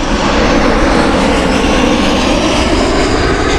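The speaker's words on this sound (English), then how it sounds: "We've got EasyJet inbound just going over me right now, as you probably hear." An EasyJet airliner passing low overhead on approach to Gatwick Airport, a loud steady engine roar that fills the whole stretch without letting up, with no talking.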